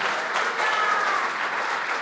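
Applause from a church congregation during a sermon, a steady, even wash of many hands clapping for about two seconds, full and fairly loud with no voices over it.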